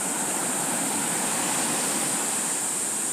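Big ocean waves breaking on a Costa Rica shore make a dense, continuous roar of surf that stays close and loud throughout, with no talk.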